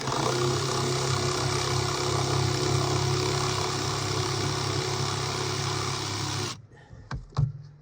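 A Polaris Edge X snowmobile that sat outside all summer runs with a loud, steady engine drone for about six seconds, then cuts off, leaving a few faint knocks and handling noises.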